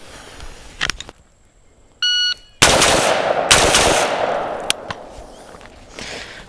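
A Daniel Defense DDM4V7 AR-15 rifle fires on an outdoor range after a shot-timer beep. There are a couple of loud, sharp cracks in quick succession, then lingering echo and a few fainter distant shots.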